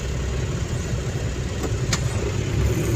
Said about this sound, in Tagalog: Grabe, sobrang traffic dito.